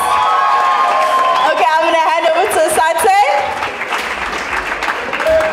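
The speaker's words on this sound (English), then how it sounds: "I think we need to give them another round of applause," An audience at the Greenside High matric dance claps and cheers in a loud, steady wash of applause, with whoops and shouting voices rising above it throughout.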